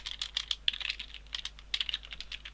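Code typed on a computer keyboard while writing a Unity game script: quick, light, uneven clicks of keys in short runs with brief pauses, quiet and close, with no one speaking.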